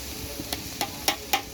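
Ghee sizzles in a pan as carrot halwa is stirred, with soft frying hiss broken by a few sharp scraping strokes of the spoon at close range.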